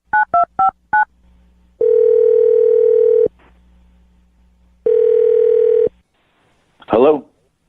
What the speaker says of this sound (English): Now I'm going to dial Rick's phone number